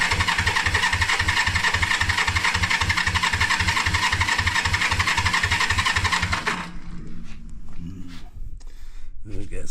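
A 1973 Honda CB350G motorcycle fires up for the first time in over ten years, choke on, settling into a rapid rhythmic idle for several seconds before cutting out, with people talking around it.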